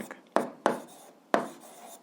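Pen or marker strokes writing out an algebra expression: three crisp, close tapping scratches at irregular intervals against a quiet room, with no talking.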